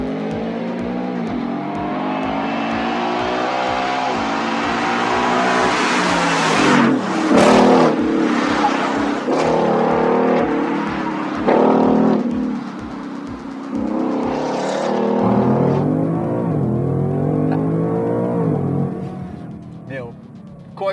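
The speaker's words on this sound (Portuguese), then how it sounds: "Agora vamos escutar então esse V8 uivar mais um pouquinho?" The third-generation Coyote V8 of a Ford Mustang Mach 1 revs repeatedly, its deep exhaust howl swelling and falling in loud, close bursts before easing back toward a lower rumble.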